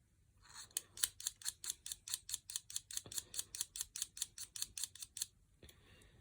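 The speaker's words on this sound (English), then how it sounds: "And you've now sharpened the pencil into a nice chisel shape." A pencil's graphite worked flat into a chisel shape, about twenty quick, evenly spaced scraping strokes in a steady rhythm, close and crisp in a quiet room, ending with one last stroke after a pause.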